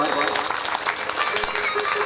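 Audience at a Shrimad Bhagwat Katha religious gathering clapping together in a brief burst of dense applause, fairly close, with a voice mixed in.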